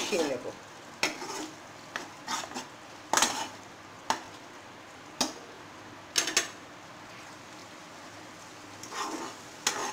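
Ground green pea paste dal is stirred in a pot, with repeated scraping and knocking strokes of a spoon against the metal over a faint bubbling sizzle and no talking.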